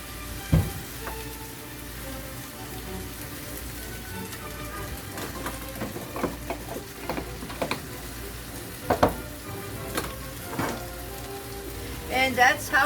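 Hash browns seasoned with salt fry in a pan with a steady crackling sizzle, broken by occasional scrapes and taps of a utensil stirring them, close and moderately loud.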